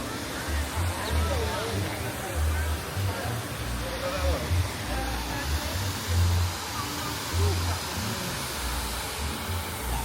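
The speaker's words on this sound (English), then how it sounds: "An upward waterfall" An upward waterfall fountain at EPCOT, Disney World, produces a steady rushing splash of water, with low rumbles and faint crowd murmur around it.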